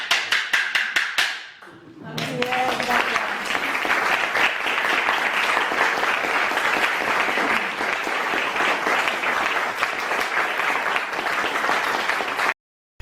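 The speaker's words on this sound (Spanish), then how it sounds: "este otro idiófono de entrechoque de Sudáfrica, que sirve para, evidentemente, como vais a ver, para que el palmear de las manos sea más sonoro y menos cansado" Hand clapping amplified by a South African concussion idiophone, a dense, steady stream of sharp clacks lasting over ten seconds, loud and close, after a short run of separate claps at the start.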